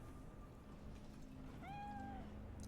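A cat meows once inside the Cyberpunk 2077 game world, a clear drawn-out mew with rising harmonics arriving after a stretch of steady low background hum and soft game ambience.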